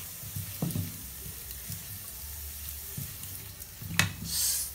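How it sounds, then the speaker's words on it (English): Chopped garlic hits a hot frying pan for a chicken liver sauté and sizzles steadily, close by, with a few soft stirring knocks and a sharper scrape near the end. "Put one clove of garlic, which I chopped."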